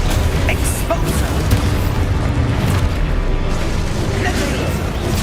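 Spell explosions in the Hogwarts Legacy video game, with a dense, loud, continuous rumble of booming bursts over two seconds and more.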